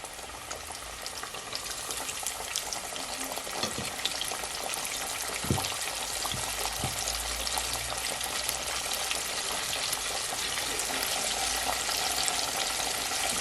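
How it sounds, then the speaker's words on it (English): Chicken pieces frying in hot oil for a sandwich, a steady loud crackling sizzle close by throughout, with a few low clunks and knocks from the pan midway and no talk. "And I'm gonna fry it, guys, for at least 4 to 5 minutes on each side"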